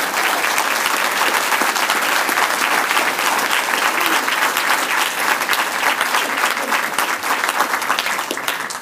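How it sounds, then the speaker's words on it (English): Enthusiastic audience applause for a newly appointed Lieutenant Governor at a Maui County Council inauguration ceremony; dense, loud, continuous clapping that tapers slightly near the end. "Let's give a big round of applause to our new Lieutenant Governor from Maui."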